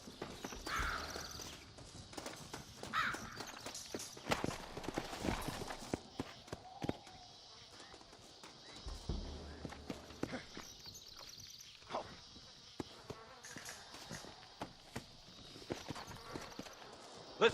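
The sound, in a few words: horses walking, hooves clip-clopping, in Red Dead Redemption video game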